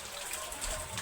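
Heavy rain falls outdoors, a brief wash of pattering drops that stays steady throughout, with someone talking faintly underneath.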